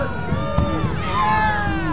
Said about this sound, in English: Cheer your Lumberjack on here.